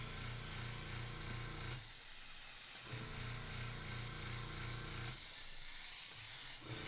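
An airbrush spraying paint gives a continuous close hiss in two bursts, each broken by a short pause, over a faint steady background hum.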